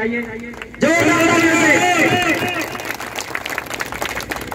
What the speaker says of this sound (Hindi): जोरदार तालियों के साथ मैं चाहूंगा माननीय डॉक्टर संजय निषाद जी का स्वागत होना चाहिए